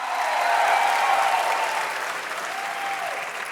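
A large crowd claps and cheers loudly, a dense wash of applause with a few whoops that eases slightly toward the end.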